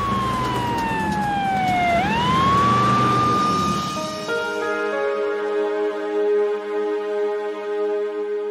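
A police car siren wails close and loud while racing to a golf course, its pitch sweeping down and back up before it drops into a steadier tone that fades a little.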